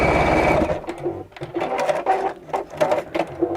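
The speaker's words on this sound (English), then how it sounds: "so your fabrics are now right sides together, and sew along the edge." A sewing machine stitches along the edge of fabric pieces placed right sides together, a close, steady motor whir at first, then breaking into short rapid bursts of stitching with brief pauses between.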